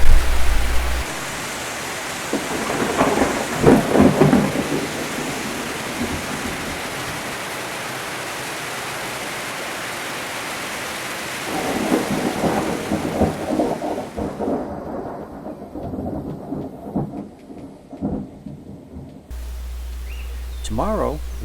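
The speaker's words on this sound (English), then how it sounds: "another thunderstorm moved through the area" A thunderstorm with rain passing through near the Xunantunich ruins in Belize in the evening, with a steady broadband wash of rainfall and low rumbling bursts of thunder swelling twice before fading.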